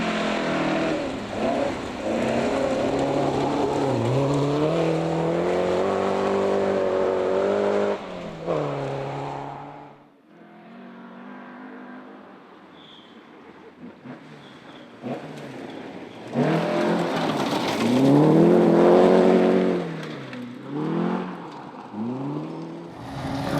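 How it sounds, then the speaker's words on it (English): A Talbot Sunbeam Lotus rally car on a historic rally stage, engine revving hard and changing pitch through gear changes, loud and close. It fades briefly, then surges back with strong accelerating roars. "was good to see James State and Glyn Thomas out again in their Talbot Sunbeam Lotus, running in D4"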